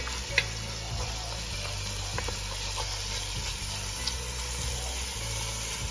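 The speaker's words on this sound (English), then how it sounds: "So just continue sautéing them on medium-high for about 5 minutes or until they're translucent and soft." Vegetables sautéing in extra virgin olive oil over medium-high heat, a soft continuous sizzle with occasional stirring clicks and faint utensil taps, steady and fairly quiet without talk.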